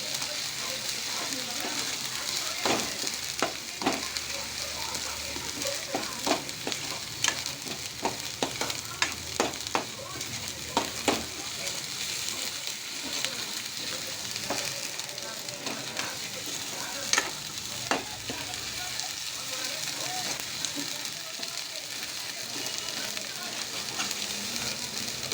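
Onion masala frying in oil for homemade chicken masala, a steady close sizzle with scattered sharp crackles and pops throughout.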